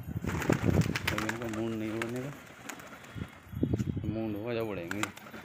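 Pigeons coo in two soft, rolling bursts close by, with light rustling and a faint clink between them.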